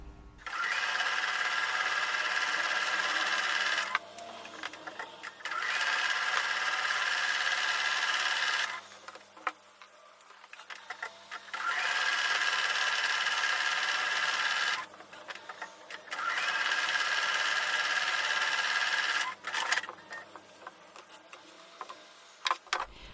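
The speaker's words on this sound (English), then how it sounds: "I'm now going to take these over to the sewing machine and sew with a 1/4 inch seam." Domestic sewing machine stitching a quilt block with a quarter-inch seam, running in four long steady bursts of rapid mechanical whirring separated by short pauses, close and alone.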